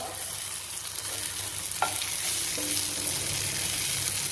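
Tofu sizzling on a hot plate beside vegetables, a faint steady hiss with a couple of soft clicks and scrapes, quiet and close, no talk.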